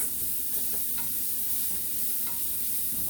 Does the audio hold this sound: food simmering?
yes